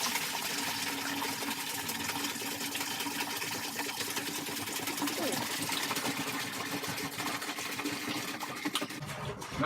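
Wort for a schwarzbier tipped and poured during brewing, a steady splashing, gushing rush of liquid close by that runs continuously for the whole stretch, with a brief clatter at the end.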